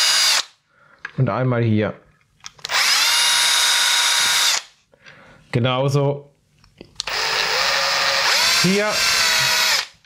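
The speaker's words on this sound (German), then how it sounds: "Jetzt fahren wir einmal kurz hier mit dem 1 mm Bohrer durch" A power drill fitted with a 1 mm bit whirs in three loud sustained bursts of several seconds each, separated by short pauses where someone speaks briefly.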